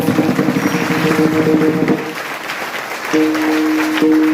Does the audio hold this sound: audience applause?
yes